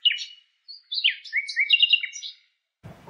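A bright nightingale song rings out alone in short sweet bursts of whistles, trills and chirps, close and clear across a few seconds before a faint rumble at the end.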